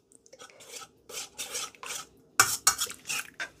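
A spoon scrapes and clinks through a beef terrine mixture made from leftover pot-au-feu beef with melted gelatine, a series of short rhythmic stirring strokes in a bowl, close and fairly quiet, with a few sharper knocks near the end.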